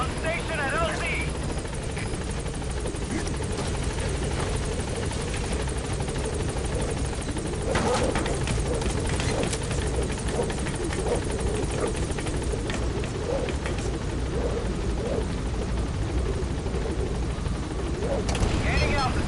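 A B-Quad helicopter in Metal Gear Solid V arriving at a landing zone, its steady rotor drone loud and continuous throughout, with radio voice chatter mixed over it.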